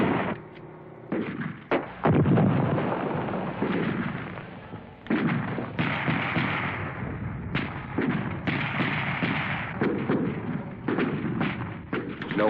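Combat gunfire in 1965 Vietnam War footage, with an infantry unit pinned down by Viet Cong fire: irregular bursts of shots and heavy thuds, some close and sharp and some duller, mixed with distant battle noise and brief speech.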